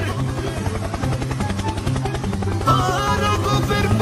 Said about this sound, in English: Helicopter, helicopter.